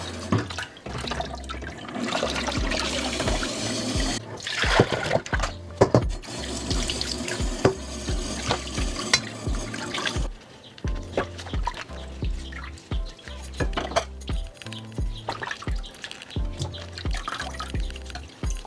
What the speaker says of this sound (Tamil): இப்போ நாங்கள் இந்த மீன் எல்லாத்தையும் கழுவிட்டு சும்மா தண்ணியில் கழுவி எடுத்தால் போதும்